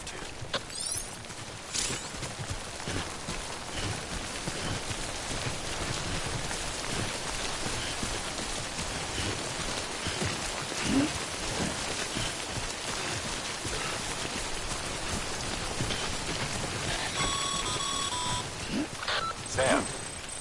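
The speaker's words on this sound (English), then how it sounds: "Don't stay out in the rain any longer than you have to." Rain (timefall) falling in the Death Stranding video game, a continuous dense patter and hiss of drops lasting throughout, with a few faint electronic beeps late on and no talking.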